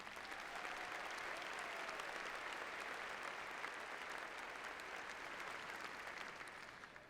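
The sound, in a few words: applause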